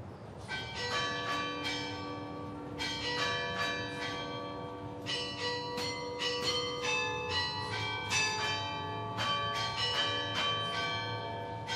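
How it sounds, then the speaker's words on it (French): Church carillon bells ring out in a melodic sequence, many tuned strikes overlapping and resonating, loud and clear with no talking. "C'est au son du carillon, rythmant le temps des Genevois"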